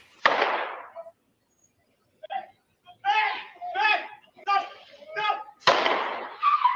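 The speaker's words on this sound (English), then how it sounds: "Ring camera video shows the moment gunfire was exchanged between police and the shooter" Gunfire exchanged between police and a shooter on a street, captured on a doorbell camera: a sharp loud bang at the start, a run of rapid shots and cracks in the middle, and another heavy blast near the end.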